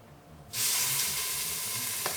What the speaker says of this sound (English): we're just gonna brown each one of these pieces